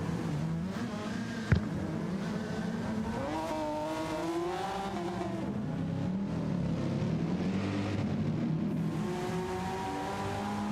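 An engine revs continuously in a vintage race car in a racing video game, a steady buzzing drone with rising and falling pitch through the gears and one sharp click near the start, with no talk over it.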